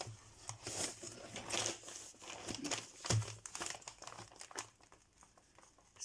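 Plastic bag crinkling and rustling as items are pressed down into it, a continuous close-up crackle with uneven surges, fairly faint, with no talk.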